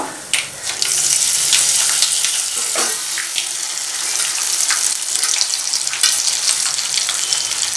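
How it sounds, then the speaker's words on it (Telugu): Ground gongura (sorrel leaf) chutney hits a hot tempering in a pan and sets off a loud, dense, continuous sizzle and crackle up close, with a brief clatter at the start. "ఈ పచ్చడి మొత్తం ఈ తాలింపులో వేసేసుకుందాం"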